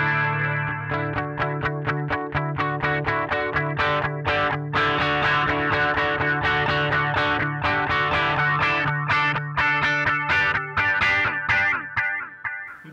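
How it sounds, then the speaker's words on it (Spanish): An electric guitar plays through a budget worship pedalboard, its delay pedal set by tap tempo. Loud, steady picked notes and chords repeat in echoing trails that blur together, with no talking. "Delay muy chévere."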